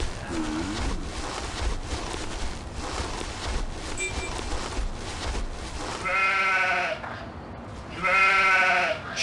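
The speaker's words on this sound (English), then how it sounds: "Sheep?" Sheep bleat in the Stubbs the Zombie video game, two loud wavering bleats in the second half over a background of rumbling game ambience and clatter.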